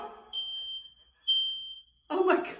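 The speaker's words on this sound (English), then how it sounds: "Why is the alarm going off?" A household smoke alarm chirps two loud, piercing beeps about a second apart, set off by a smoking toilet, with excited voices talking before and after.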